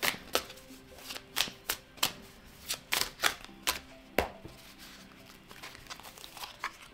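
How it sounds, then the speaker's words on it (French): Tarot cards are laid down one after another for a card reading, giving a run of soft, sharp slaps and flicks at an irregular pace, close and fairly quiet, with no talk. "Maintenant, le moment de poser les cartes."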